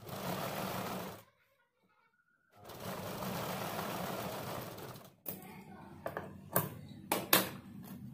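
A sewing machine stitches a side seam joint on a sleeve in two sustained runs of rapid, close whirring separated by a brief silence, followed by scattered clicks and thumps as the fabric is handled.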